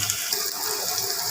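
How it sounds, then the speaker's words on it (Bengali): Onions hit hot oil in a pan for a hilsa and ash gourd dish, giving a brief, steady close hiss of frying. "তেল পেঁয়াজ দিচ্ছি"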